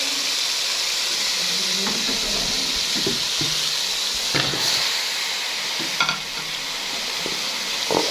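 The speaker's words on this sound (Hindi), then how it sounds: "अब मैं इसमें ना ऐड करती हूँ गोभी और आलू ताकि वो भी अच्छे से हो जाए।" Chicken frying in a pan with cabbage and potato, stirred steadily with a spoon: a continuous sizzle and hiss with occasional scraping clatters, close up and with no talking.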